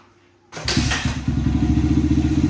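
After a brief quiet moment, a small Honda CRF dirt bike engine with intake, emissions delete and full exhaust kicks over and fires up, settling into a loud, rapid, popping idle close by.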